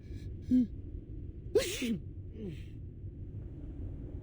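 A voiced sneeze from a character in the video game Reverse: 1999, a short gasping intake followed by a sharp burst, then smaller breathy sounds over a low background hum.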